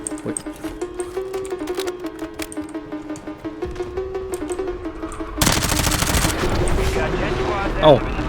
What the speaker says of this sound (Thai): คุณก็ยิงแรงเหมือนกันนะ